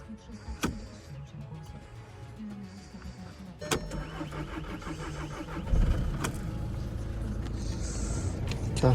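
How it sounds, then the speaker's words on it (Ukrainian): A Volkswagen Passat B7 cranks hard before its engine catches and settles into a steady idle. Sharp clicks and a rising mechanical whir come before the running engine's continuous hum, heard up close with no voices. "важко завівся. Але працює рівненько."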